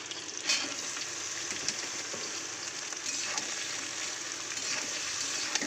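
Okra and potato with tempered spices frying in oil in a wok, a steady close sizzle with scraping stirring strokes and a few clinks, no talk.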